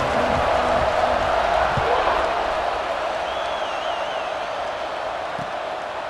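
Stadium crowd noise in EA Sports College Football 26 before a kickoff: a steady, fairly distant roar with a faint whistle-like rising tone, under commentary and game sounds.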